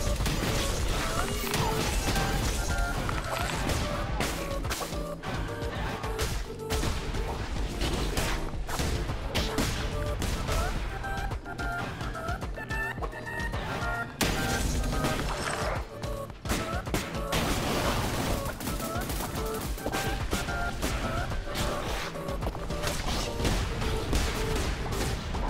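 Dense, loud bursts of explosions and crashing impacts during a boss fight in the video game Cult of the Lamb, repeated blasts layered over game music with no pauses.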